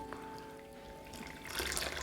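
Fresh water splashes into a vessel of soaking rice during washing, a faint, close trickle and pour that grows brighter and fuller toward the end, with a low hum beneath and no talk.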